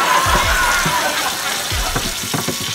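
Big pan rinsed under running water, a steady close gush and splash with a rising watery trickle, while someone talks over it.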